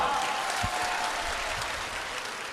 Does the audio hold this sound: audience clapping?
yes